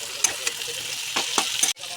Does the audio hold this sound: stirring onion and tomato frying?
yes